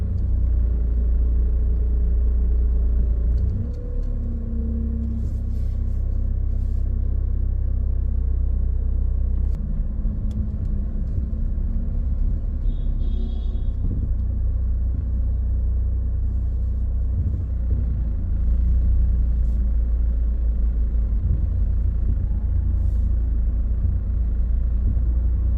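Heard from inside a car moving through evening traffic in central George Town, Cayman Islands, a steady low engine and road rumble holds throughout, with faint passing sounds from other vehicles.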